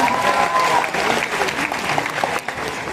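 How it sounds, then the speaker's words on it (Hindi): A crowd at a university Teachers Day event applauds as two teachers are called to the stage, steady loud clapping throughout with a brief spoken voice near the start. "Please come on, give them a huge round of applause, guys."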